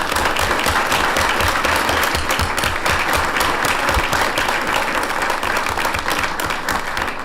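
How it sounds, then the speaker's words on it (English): An audience at a school district board meeting applauds students from West Jordan Middle School with loud, full, continuous clapping that holds steady for about seven seconds. "Can we give them a round of applause?"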